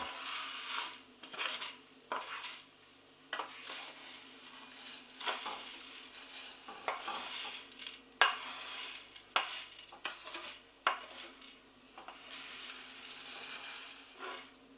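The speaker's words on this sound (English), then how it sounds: "Let's bring this pan over here and pop the Orzo in." Dry orzo pasta toasting in a pan and being stirred, giving soft scraping, light rattling of grains and gentle sizzling with occasional clinks of the utensil, fairly quiet and without talk.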